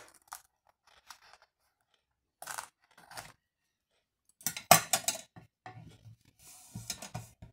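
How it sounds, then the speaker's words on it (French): Scissors cut through a paper envelope in several separate crisp snips and crunches, short bursts with quiet pauses between, close and fairly soft. "Je prends un ciseau."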